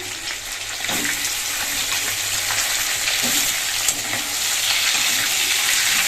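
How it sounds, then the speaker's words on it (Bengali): Potatoes and fish sizzle together in a pan of fish oil, a steady close bubbling fry with occasional louder crackles running throughout. "আলু আর মাছের মধ্যে একসঙ্গে ভাজা হয়ে যাবে"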